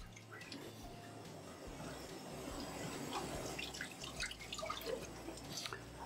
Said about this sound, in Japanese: 水洗いしますよ。